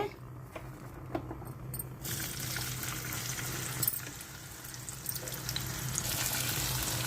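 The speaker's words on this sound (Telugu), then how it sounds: "ఇవి బాగా వేగిపోవాలి వేగుతున్నాయి కదండి ఉల్లిపాయలు ఇంకా వేగాలి" Onions frying in oil left over from frying eggs, a steady close crackling sizzle that grows louder after the first two seconds and continues without talk.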